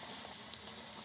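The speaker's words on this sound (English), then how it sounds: "Oh, that sizzle." A brief, steady hiss of pork and goose meat sizzling in a pot, dense and crackly, heard up close with no voices.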